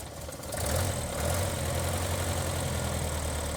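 A truck engine, apparently a four-cylinder, idles steadily right after being started, a close, even low rumble that settles into a constant drone with no talk.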